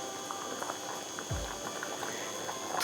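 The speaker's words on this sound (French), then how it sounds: "on commence comme d'habitude par faire cuire nos pâtes" Pot of chickpea, bean and pea pasta boiling, a steady soft bubbling hiss with light patter and one low thump midway, close and quiet, no talk.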